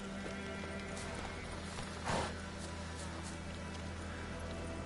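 Roach, Geralt's horse in The Witcher 3, trots with soft, steady hoof clops over a continuous outdoor ambience, with a brief louder burst midway and no speech.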